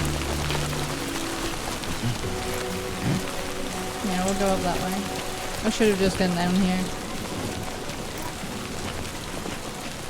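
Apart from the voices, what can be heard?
rain in video game Death Stranding 2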